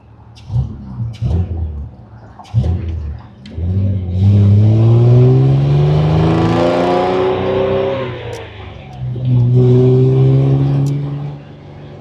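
The six-cylinder engine of a 1964 Austin Healey 3000 MK2 rises steadily in pitch as it accelerates through gears, loud and close, with a brief drop in revs before climbing again.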